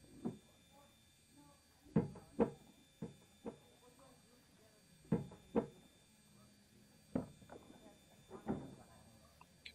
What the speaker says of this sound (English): You can hear the passengers loading up